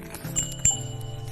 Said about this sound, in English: Duck rang his bell as he rode toward Chicken.